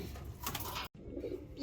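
Pigeons in a loft housing about fourteen birds plus eggs and young, a steady close murmur of cooing and rustling that fills the clip, broken by one brief silent gap midway.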